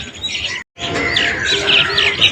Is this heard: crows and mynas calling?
yes